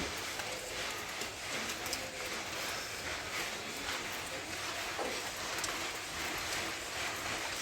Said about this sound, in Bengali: বৃষ্টি এখনও ঝিরিঝিরি করে পড়ে যাচ্ছে